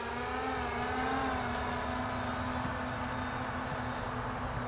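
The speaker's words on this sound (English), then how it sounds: "Wow, the drone is flying really good." A Hubsan Zino drone flying nearby, a steady whining motor and propeller drone with layered high harmonics, continuous and fairly loud throughout without speech.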